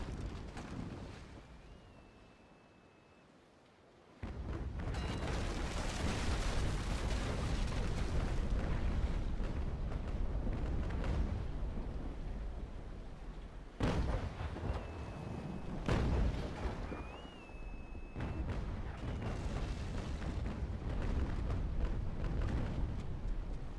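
Sailing-ship cannon fire in the naval game Naval Action, a Bellona's crew raking a Trincomalee: heavy booming broadside blasts and sustained rumbling roar over wind and sea noise, with faint whistling tones drifting through.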